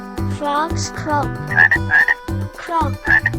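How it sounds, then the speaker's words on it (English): A frog croaks in a run of loud, close, throaty pulses with short gaps between them, alone with no voices. "Frogs croak."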